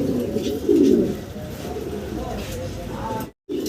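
A pair of young Doyel Lakha pigeons cooing close by, soft low calls repeating under steady background noise, with one fuller coo burst near the start and a brief dropout near the end.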